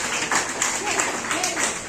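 Audience applause at a Teachers' Day celebration, a dense, steady wash of clapping lasting under two seconds at moderate level, with no clear individual claps standing out.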